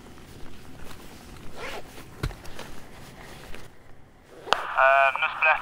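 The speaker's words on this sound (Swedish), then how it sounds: "Nu sprättar Säpe för nya handskar här i sin plastpåse." Plastic bag holding new gloves being torn open, with soft rustling and crinkling under a quiet voice, then a louder burst of sharp ripping and zip-like tearing near the end.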